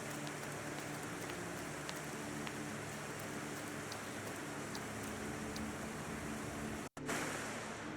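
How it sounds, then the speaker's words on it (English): Steady rain falling in The Thaumaturge video game, set in a garden during a funeral, a dense continuous hiss of drops with faint scattered ticks, constant and even throughout, with one brief dropout near the end. "We have guests outside sitting in the rain."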